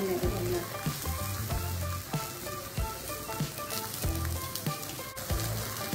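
Brinjal (eggplant) slices coated in masala fry in a thin layer of oil on a tawa over a medium flame. A steady, close sizzle runs throughout, broken by occasional soft clinks and scraping as the pieces are turned.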